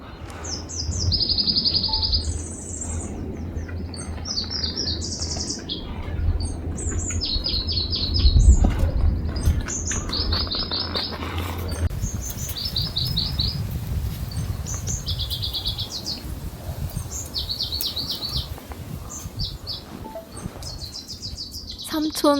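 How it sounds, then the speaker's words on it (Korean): Bright, repeated chirping birdsong rings out on a mountain trail, several short trilled phrases near and far over a soft outdoor background with a low hum early on and occasional quiet voices. "잠깐, 새소리 좋다."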